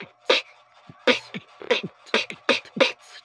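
A mouth imitates a hi-hat with crisp, breathy "tss" bursts, about eight short hits in an uneven rhythm, close and fairly loud.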